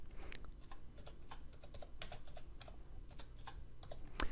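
Rapid, uneven keystrokes tap on a computer keyboard up close, a dense run of crisp clicks with short pauses, ending with a slightly louder press, and no talking over it.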